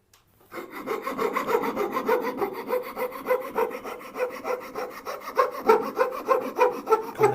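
Hand saw cutting a wooden dovetail close up, with a steady run of rhythmic rasping strokes that grows slightly stronger toward the end and has no talk.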